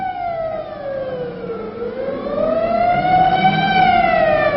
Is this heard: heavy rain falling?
no